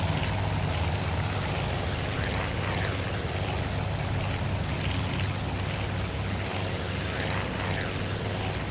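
Japanese World War II propeller aircraft in flight in the naval strategy game Task Force Admiral, a steady droning engine roar that holds loud and unbroken with no voices.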